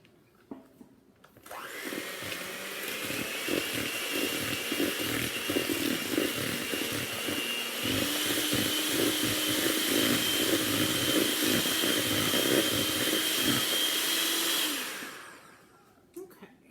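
An electric mixer beats mint chocolate cookie dough, starting up with a steady motor whine that holds loud and close for about thirteen seconds, shifts slightly midway, then spins down to a stop.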